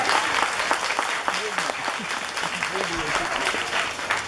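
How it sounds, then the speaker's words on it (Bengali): An audience at a puja committee's drama performance claps in sustained, dense applause, with voices talking over it throughout. "আমরা একটু ওদের জন্য একটু জোরে হাত তালি"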